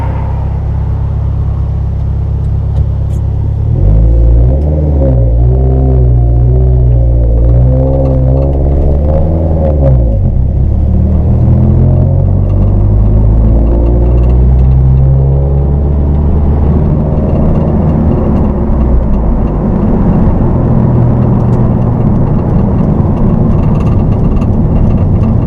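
A car fitted with an eBay short shifter, revving and accelerating through gear changes on a test drive, its engine rumbling steadily and close throughout with no talk.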